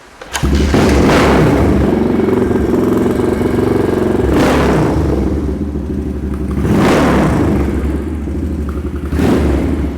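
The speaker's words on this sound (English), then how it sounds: "I'm going to give it a start right now" A Yamaha SR500 street tracker single-cylinder motorcycle fires up and runs loud and close, its engine revved in several long surging blips between rumbling idle stretches.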